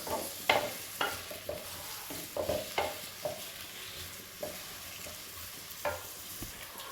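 Onions sauté gently in a pan until soft, for a ridge gourd (turai) sabzi, giving a faint, low sizzle. Sharper scrapes and taps from stirring recur every second or so.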